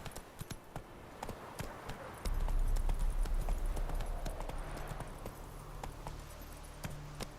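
Roach the horse gallops in The Witcher 3, a steady run of hoof clip-clops that grows louder and heavier partway through, with a low rumbling bed beneath and a few brief voice fragments over the hoofbeats.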